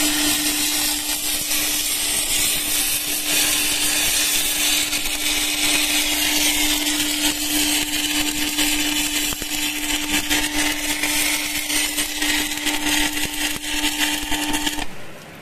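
A Spark 500MMA DC inverter arc welder running a 10-number rod on thick steel plate, giving a loud, continuous crackling hiss with a steady electrical hum underneath, close and unbroken until it cuts off at the end.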